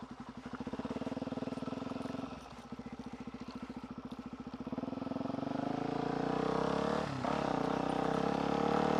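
A supermoto motorcycle being ridden, its single-cylinder engine pulsing steadily at low revs, dipping briefly, then climbing louder as the rider accelerates; close by with no talk.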